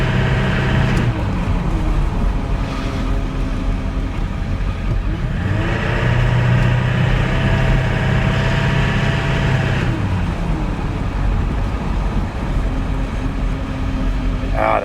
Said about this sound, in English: Gotta love the sound of a diesel.